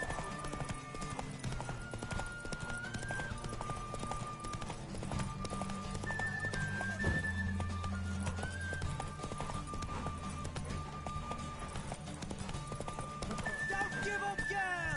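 Steady galloping hoofbeats pound throughout with occasional horse whinnies, set against a busy soundtrack of music and effects in the video game The Witcher 3.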